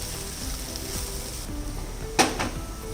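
Roughly mashed boiled potatoes are mixed with a spoon in a pan for bread roll filling, with soft scraping and stirring under a faint sizzle and one sharp clink of metal near the end.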